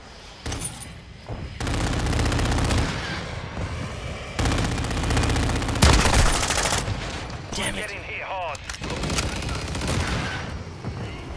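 Video game gunfire in Call of Duty MW2 online, sustained rattling automatic bursts with a sharp loud hit in the middle and bits of game audio between volleys.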